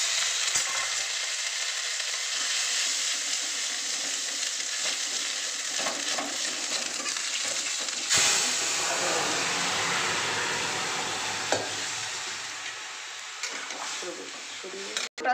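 Mustard and fenugreek seeds spatter in hot oil in a kadai while a Bengali sukto is cooked, a steady broad sizzle lasting throughout with a sharp crackle midway and small pops near the end.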